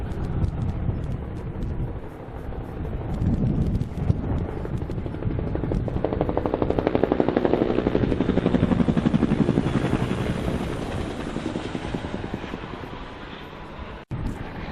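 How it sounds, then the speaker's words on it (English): A DC-10 air tanker bomber flies overhead at a wildfire, a steady, broad engine roar that swells and fades over several seconds against wind buffeting on the microphone. "I think that's a DC-10 bomber up there"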